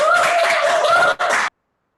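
Audience applause for a guest speaker at an online geothermal workshop, a dense burst of clapping that fills the moment, briefly dips, then stops abruptly around a second and a half in.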